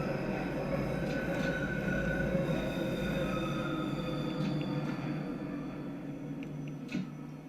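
A Bakerloo line London Underground train in the Train Sim World 2 video game runs steadily, with a continuous rumbling roar of motors and wheels and faint squeals and ticks on top.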